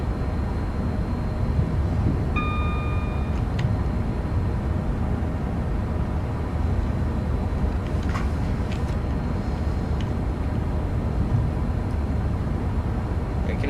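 A Pendolino train runs along the West Coast Main Line in Train Sim World 6, a steady dense rumble heard from the cab throughout, broken by a short electronic beep and a few faint clicks.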